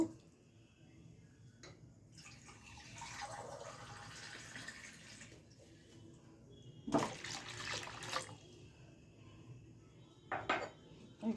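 Water is poured into a pot on the stove for chicken Maggi soup noodles, with a couple of bursts of splashing and pouring among faint clinks of cookware in a quiet kitchen.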